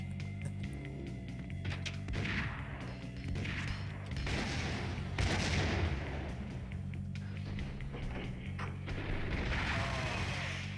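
Dense gunfire in the video game Max Payne, repeated heavy shots and booming blasts in irregular bursts over a continuous game soundscape, fairly loud and sustained.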